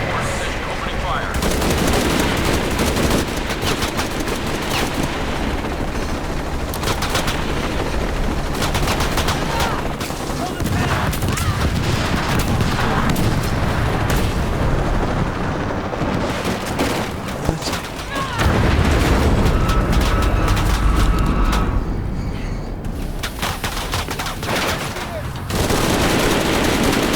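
Helicopter gunfire in Shadow of the Tomb Raider, loud sustained bursts of machine-gun fire with heavy booming impacts that keep rolling almost continuously, briefly thinning before a louder surge, with game voices mixed in.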